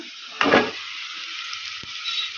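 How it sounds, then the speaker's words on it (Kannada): Peeled drumsticks tipped into a pan with browned onions for sambar give one brief, bright sizzle burst. A steady low frying hiss follows close by, with a faint knock of the pan and no voices. "ಈ ಥರ ಒಂದು ಐದು ನಿಮಿಷ ಕಲಸ್ಕೊಂತ ಫ್ರೈ ಮಾಡೋಣ"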